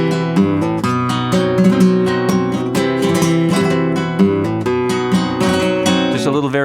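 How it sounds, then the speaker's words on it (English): A flamenco guitar strums a tangos compás in a driving, percussive rhythm with a moving variation in the bass notes. Close and bright, steady throughout with no voices. "So you might hear a classic tangos sound something like this."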